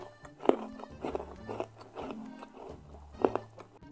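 Crisp bites into a crunchy homemade Famous Amos style cookie, two sharp close cracks followed by quiet repeated chewing crunches, no talking.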